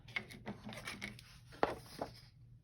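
Small snips of tiny scissors cutting out a paper tag, a few quiet crisp cuts with one sharper snip near the end, close and fairly faint.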